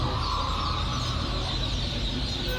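A crowd of young Khaki Campbell ducklings peeping continuously close by, a dense, steady chorus of high calls without pause.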